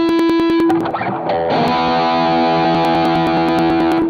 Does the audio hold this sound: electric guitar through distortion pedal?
yes